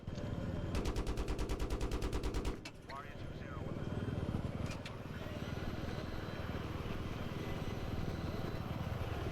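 Rapid anti-aircraft gunfire in a Battlefield 3 co-op mission, a dense burst of fast repeated shots for a couple of seconds, then rumbling aircraft engine noise and scattered distant fire, with a voice talking over it.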